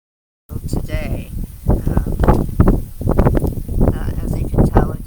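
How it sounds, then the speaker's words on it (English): Strong wind buffets a microphone outdoors in the Columbia Gorge, a loud, continuous roar with gusty surges that runs throughout. "As you can tell, it does get windy here."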